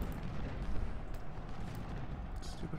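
Civil War artillery fire in the strategy game Ultimate General: Civil War, a steady low booming rumble of cannon blasts and distant gunfire rolling on without pause behind faint voices.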